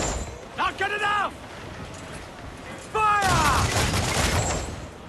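Broadside cannon fire from a pirate ship in Assassin's Creed 4: Black Flag erupts in a heavy, sustained volley after a brief lull. Crew members shout orders just before and over the loud blasts.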